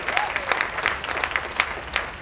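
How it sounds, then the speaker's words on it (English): Applause for Tracy Fujikani, a two-star crown distributor, at a regional event in Hawaii: a steady patter of hand claps from a small crowd, moderately loud and continuous throughout, with no one speaking over it. "Another round of applause for Tracy Fujikani"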